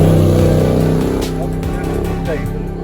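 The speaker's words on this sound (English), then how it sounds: "The V8 Mini, incredible machine with the engine in the boot, driving the front wheel." A V8-powered Mini with the engine mounted in the boot driving the front wheels, its loud, deep engine drone rumbling steadily up close, with a voice speaking over it.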